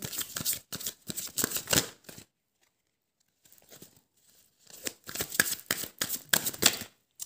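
Tarot cards are shuffled in quick riffling bursts, close and crisp, with a pause of near silence in the middle before the flicking resumes.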